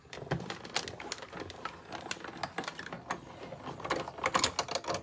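Paper sheet fed at an angle through a tabletop die-cutting machine, giving a run of close clicking, ratcheting and crackling sounds with scattered sharper snaps.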